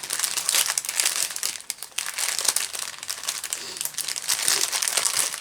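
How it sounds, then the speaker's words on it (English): Packaging crinkles and rustles close up while being unwrapped by hand, in continuous bursts of dense crackling with brief pauses between handfuls. "If you don't mind a little bit of crinkling here."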